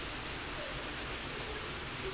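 Steady, dense rain pours down during a thunderstorm in Dhaka, a continuous close hiss with no distinct drops or thunderclaps standing out, and no voices.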